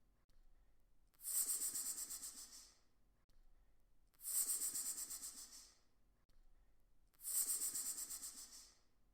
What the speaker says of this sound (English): monitor lizard,